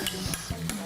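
Relish being stirred into a burger sauce: a brief scraping stir of about three soft strokes, close and quiet, with no talk.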